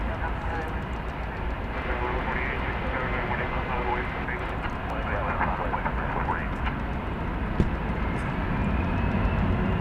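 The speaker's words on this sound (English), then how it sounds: "There's going to be no shortage of planes taking off for the next few minutes." Jet airliners roar down the runway at DFW Airport, a steady loud engine rumble filling the scene without letup, with a person talking over it.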